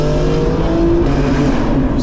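A 2024 BMW M4 with the S58 engine growls loudly from inside while driving through the city, a deep, steady exhaust drone with a slight rise in pitch as it pulls.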